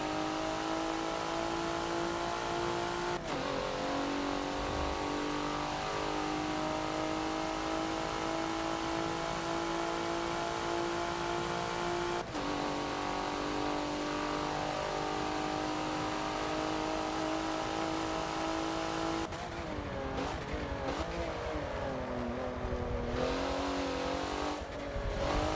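A race car engine holds full throttle around Road Atlanta in the Forza racing game, a loud, continuous high-pitched roar broken by a few sharp gear shifts, with the pitch wavering and dropping near the end.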